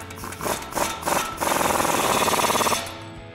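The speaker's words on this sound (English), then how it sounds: "now we'll go ahead and tighten up our axle nut again" An impact wrench tightens the axle nut on a RAM 1500 front end, a loud close rattling burst of rapid hammering lasting over a second after a few short bursts.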